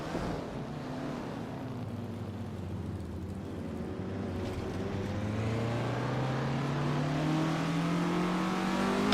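Race car engines in a racing video game, including a 1974 Ford Gran Torino: a steady droning engine note that slowly climbs in pitch as it accelerates, with no talk.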